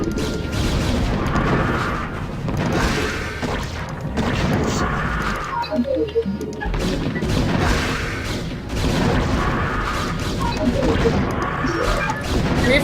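Reaver scarabs exploding in a real-time strategy game, a series of loud booms and crashes in a wide spread, dense and repeated across the clip with battle noise throughout.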